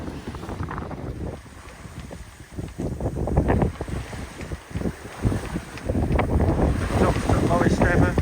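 Wind gusts roar steadily across the microphone aboard a Hustler 30 sailboat under full sail in a 16 to 20 knot breeze, with water sloshing and faint voices mixed into the blustery noise.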